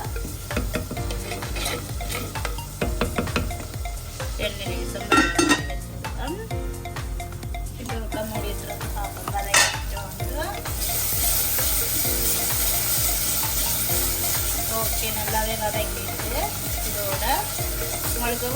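Onions sautéing in a clay pot for Sri Lankan fish curry, a continuous sizzle with occasional spoon clinks and stirring scrapes, then a steadier, brighter frying hiss; someone talks over it at first.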